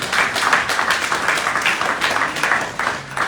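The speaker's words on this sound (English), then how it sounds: "A big clap for them." An audience at a national census results event applauds, a loud, even wash of many hands clapping that swells slightly and carries on steadily without speech.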